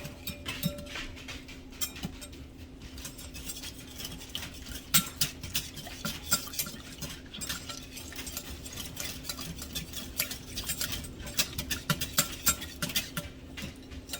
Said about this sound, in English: you slowly add this hot liquid to the eggs. And you just keep stirring.